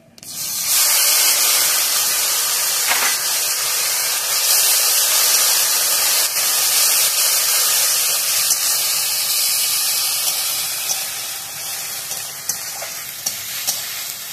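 Onion paste frying in a pan for an aloo dim kosha with cashew and poppy seed, a loud, steady close sizzle with bursts of hissing steam that holds for the whole stretch, no voices.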